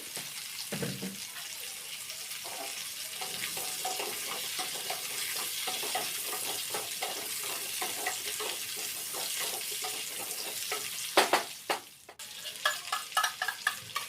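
Onions and potatoes frying in a pan on a home stove, a steady close sizzle with scraping stir strokes throughout, a brief clatter near the end, no talking.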